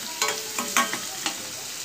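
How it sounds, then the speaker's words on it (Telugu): Green chilli frying in a pan, a soft sizzle with a few brief stirring scrapes, close and fairly quiet. "ఒక పచ్చిమిర్చి బాగా వేగనివ్వాలి."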